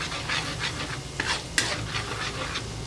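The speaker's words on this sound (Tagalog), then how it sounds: "Mainit ng kawali na nilagyan ng mantika. Okay. Lagay ang bawang." Garlic frying in hot oil in a heated pan, with a steady sizzle and intermittent scraping stirs, plus one sharp clack of utensil against pan near the middle.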